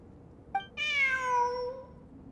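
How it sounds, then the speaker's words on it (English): A cat in the video game Genshin Impact gives a short chirp and then one long, clear meow that falls off slowly, set over a quiet game background. "Look! A cat!"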